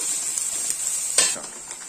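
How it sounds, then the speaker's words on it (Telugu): Sliced onions frying in hot oil with a pinch of salt for chicken dum biryani, a steady close sizzle with a sharper burst as they are stirred around the pan. "ఈ ఆనియన్స్ గోల్డెన్ బ్రౌన్ కలర్ వచ్చేంత వరకు వేయించుకోవాలి."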